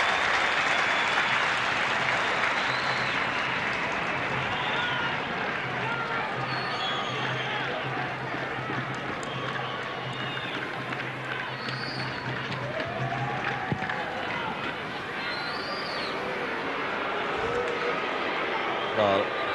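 A football stadium crowd at a 1988 Bicentennial Gold Cup match between Australia and Saudi Arabia, a broad, distant roar of voices and murmuring reacting to a poor kick, with a commentator talking over it.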